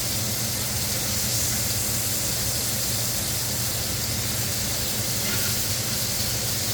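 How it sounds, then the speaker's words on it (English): Dry-aged backstrap steak in a hot cast iron skillet, basted with drippings over a fire, giving a loud continuous sizzle and hiss that stays steady throughout with no voices. "I like to take a spoon and scoop up some of the drippings and put it on top and kind of baste it."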